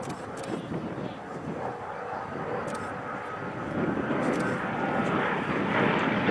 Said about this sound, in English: we have Peter Teichmann in this wonderful Spitfire 11.